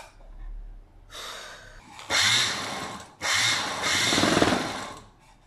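A sewing machine stitches fabric in a tailoring class, running in short loud bursts separated by brief pauses, close and with no talk over it.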